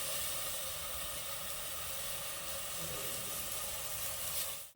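Butter sizzling in a hot pan while cooking vegetable biryani, a steady dense hiss that holds loud and even for several seconds with no voices.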